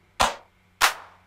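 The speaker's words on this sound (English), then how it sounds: "So let's try the 1984 clap, see if they match." Two sharp, reverberant sampled 1984-style clap hits played in Ableton, evenly spaced and loud, each with a bright crack and a short decaying tail.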